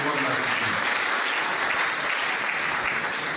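A crowd at an award ceremony claps in sustained, even applause, a dense wash of hands at moderate level from start to finish, with a voice faintly audible beneath.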